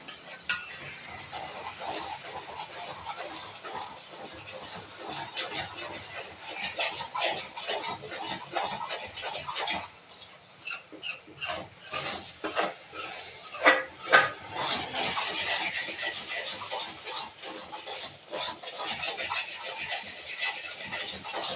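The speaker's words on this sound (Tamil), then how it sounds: "நல்லா கைவிடாமல் கிண்டிக்கிட்டே இருக்கணுங்க, இல்லைனா அடி பிடிச்சிரும்" Egg pepper podimas being stirred in a pan, a steady scraping and rasping of a spoon against the metal with faint sizzling, quieter for a moment midway before continuing, no talking.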